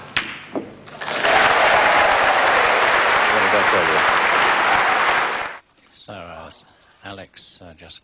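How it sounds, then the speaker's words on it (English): Snooker crowd bursts into loud, sustained applause and cheering after a red is potted, holding steady for several seconds before cutting off, followed by a commentator speaking. "If this red goes in, there'll be a tremendous cheer."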